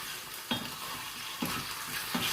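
Vegetables browning in a pan, a soft continuous sizzle with three distinct scraping stirs spaced about a second apart, alone without talk.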